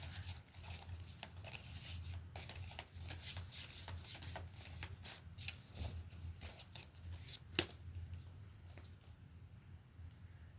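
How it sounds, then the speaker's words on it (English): Tarot cards are shuffled by hand close to the microphone, a quiet run of soft riffling and sliding with sharper snaps here and there, no speech. "I just automatically started shuffling, so the spirit definitely wants me to read another card."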